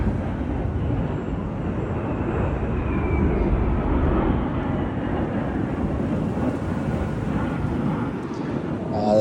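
Jet aircraft passing overhead beside a 2026 Chevy Colorado Z71 or Trail Boss, a steady broad roar that holds loud and continuous throughout, with a person talking over it.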